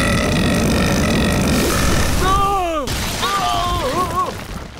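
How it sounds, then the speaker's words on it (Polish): A cartoon burp from Ben 10, a long, loud, gurgling belch over busy background sound, followed by short warbling vocal sounds. "Daję temu beknięciu 4 gwiazdki."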